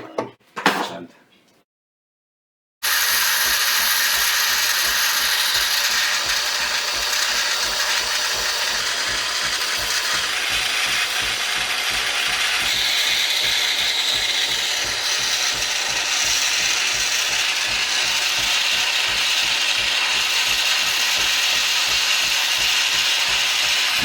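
A Philips LatteGo espresso machine grinds coffee and brews a latte. After a brief clatter and a moment of silence, a loud, steady mechanical whir with rapid ratcheting pulses runs continuously at close range, with no talk.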